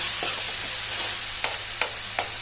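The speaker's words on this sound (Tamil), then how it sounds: "கத்திரிக்காயை நல்லா எண்ணெயிலேயே ஃப்ரை பண்ணுங்கள்" White eggplant frying in oil in a pan, a steady close sizzle with a few sharp spoon taps and stirring knocks near the end.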